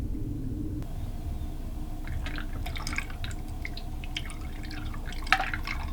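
Coolant trickles through a small funnel into a PC water-cooling loop for a Threadripper 1950x build, producing faint, irregular dripping and gurgling over a steady low rumble.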